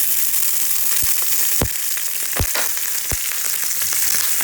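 Garlic and green chillies sauté in a hot pan, giving a steady, close sizzle with a few sharp spatula knocks scattered through it and no talking.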